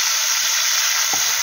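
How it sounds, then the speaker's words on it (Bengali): Prawns coated with salt and turmeric hit hot oil, producing a loud continuous hiss of steam and spitting oil up close, with a faint clatter near the end. "এবার এই তেলেতেই নুন হলুদ দিয়ে মাখিয়ে রাখা চিংড়ি মাছগুলো দিয়ে দেব।"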